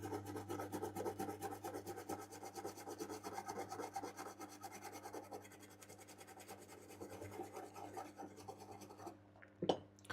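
A slightly abrasive brush scrubs a circuit board during electronics repair, giving a quiet, continuous scratchy rubbing with a low steady hum underneath, then stopping near the end with a brief clatter.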